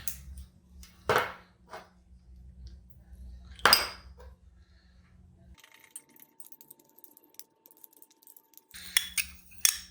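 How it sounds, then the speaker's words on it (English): Sausage seasonings for a maple breakfast sausage batch are stirred together in a bowl, giving a few dry scraping, clinking strokes with quiet pauses between them, close and fairly soft. "So I'm just going to go ahead and mix these seasonings together."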